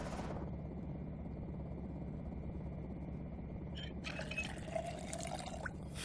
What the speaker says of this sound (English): let's just fill up our water